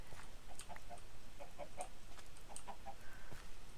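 Chickens clucking softly in short, scattered bursts outdoors, several birds calling at moderate distance over a steady background hiss.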